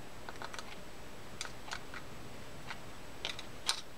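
The gear of a Penn GTI level wind fishing reel is turned by hand under repair, giving sparse, close, light ticks and clicks scattered over a quiet background.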